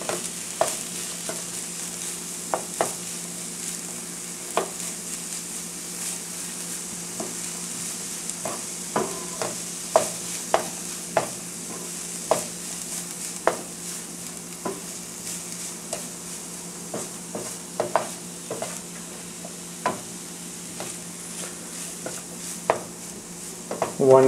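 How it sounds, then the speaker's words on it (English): A ground spice mixture is stirred into beans frying in a pan for Kerala-style beans thoran, with a steady sizzle under repeated sharp spoon scrapes and clicks against the pan, close and alone, with no talking. "we are going to add the grinded mixture. And mix it thoroughly."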